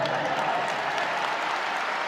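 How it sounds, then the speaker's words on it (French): Applause from an audience at an Easter retreat, a dense, steady wash of clapping filling the whole moment without a break, loud and close. "Ils sont applaudis. And they started clapping."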